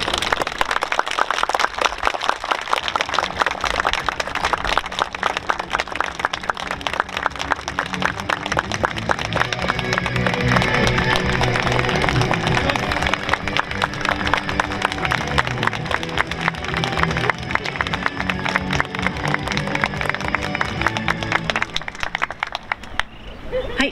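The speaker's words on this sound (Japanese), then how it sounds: "拍手でお迎えください。" Crowd at a police station ceremony applauds the arrival of a retired professional wrestler serving as one-day police chief, sustained loud clapping mixed with music and crowd noise for over twenty seconds.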